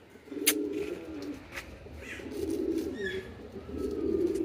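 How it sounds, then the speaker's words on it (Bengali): Racing homer pigeons coo in low, repeated rolling calls close by, with a few wing flaps or sharp knocks and faint background noise. "এই যে আমাদের রেসার হুমা কবুতরগুলা কিন্তু লাইফের ফার্স্ট টাইম বাহিরে বের হয়েছে"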